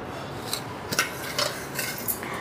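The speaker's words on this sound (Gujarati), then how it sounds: "2 ચમચી લેશું ખાંડ નાખીને અને પાછું ફેંટી લેવાનું." A spoon stirs sugar into a mixed vegetable raita in a bowl, making a few light scrapes and clinks spaced over a couple of seconds. The sound is close but soft.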